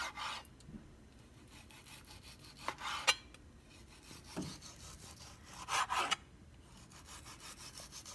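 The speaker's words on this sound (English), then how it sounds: "I always have my knife cutting kind of in an angle, not straight down. And so that it can cut really thin slices." A knife cutting thin slices of beef against the grain on a board, with soft scraping strokes and a few sharper taps spaced irregularly, faint and close with no talk.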